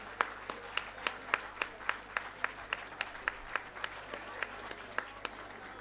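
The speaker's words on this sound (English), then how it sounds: "please welcome him with a huge round of applause" Steady clapping from an audience at a university graduation ceremony, with sharp, evenly spaced claps standing out near the front over a dense wash of crowd applause, continuous throughout.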